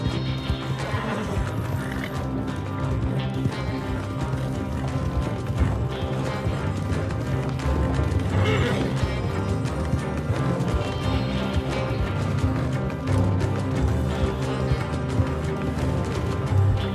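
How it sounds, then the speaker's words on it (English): A horse galloping in Red Dead Redemption 2 Online, fast rhythmic hoofbeats with whinnies and neighs over continuous game sound, loud and close throughout. "This horse can run."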